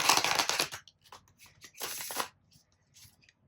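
A tarot card deck being shuffled up close: two bursts of papery riffling and snapping cards, the second shorter, with a few soft card taps and shuffles between them. No one speaks.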